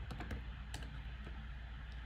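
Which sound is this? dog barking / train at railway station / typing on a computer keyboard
typing on a computer keyboard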